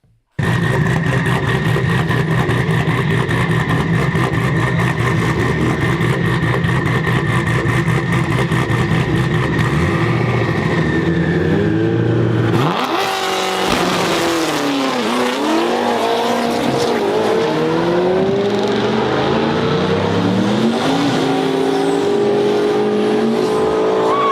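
Drag racing cars blast off down the track, engines roaring loudly and continuously with rising, sweeping revs and gear changes, a near constant wall of engine noise from start to finish.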